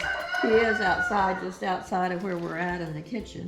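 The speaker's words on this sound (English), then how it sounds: "If you hear the rooster crowing, he's outside, just a little ways outside." A yard rooster crows from just outside the house, near the kitchen, its call partly buried under steady close talking.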